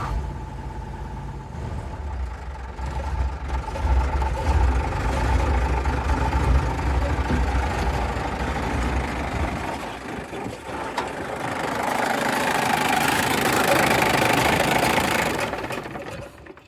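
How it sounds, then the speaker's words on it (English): A Case 1070 tractor engine idles steadily and close by, with a continuous knocking, low-pitched chug throughout and no talking. "She does purr pretty well. That's its idle."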